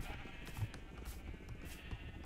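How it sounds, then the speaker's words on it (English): Sheep in the video game Minecraft bleat faintly within a dense, noisy game soundscape, short quavering calls recurring every half second or so at a distance, with no talk. "Look at all these sheep though, dude."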